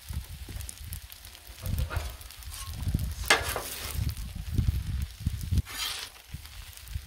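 Rice fries on a Blackstone griddle for Cajun fried rice, crackling and sizzling steadily up close while a spatula scrapes and stirs it in repeated rough strokes.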